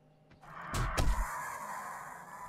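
Bird attack in the 7 Days to Die survival game, a loud harsh screeching squawk bursting in close, then trailing into a sustained noisy wash of game sound.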